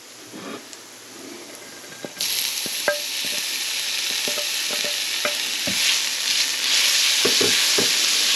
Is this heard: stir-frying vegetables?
yes